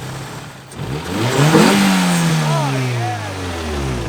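A Toyota AE86's engine cranks and catches, then revs up and settles into a rising and falling run nearby, with a man's short exclamation over it.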